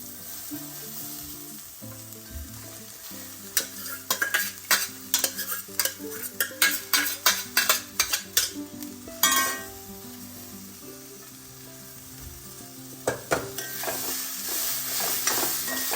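Sprouted, cooked black gram frying in a pan is stirred with a utensil, producing a run of sharp scraping clinks over a steady sizzle, close and fairly loud, with no talking.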